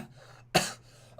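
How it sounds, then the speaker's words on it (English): A single short cough with throat clearing, close and fairly loud, amid quiet room tone. "Was that a legit cough?"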